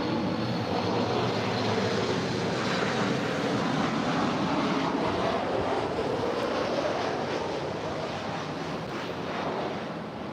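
A Southwest Airlines 737 MAX 8 on arrival at LAX, a broad steady jet roar with rushing wind noise, moderately loud and sustained for the whole stretch.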